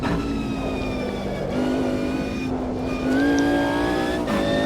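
A Mercedes CLK LM race car engine in the Automobilista 2 sim, close and loud, revving high and climbing through gear changes, with brief dips between shifts and a sustained whining drone throughout.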